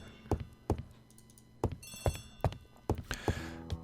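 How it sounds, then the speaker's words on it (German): A telephone rings in the Agatha Christie: The ABC Murders video game, heard as a series of sharp repeated bell-like strikes with bright metallic ringing, close and clear, without talk. "Poirot, the telephone."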